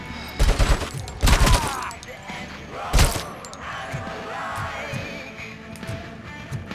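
Gunfire in the video game RoboCop: Rogue City, with several loud bursts of shots in quick clusters early on, followed by scattered softer impacts and game effects.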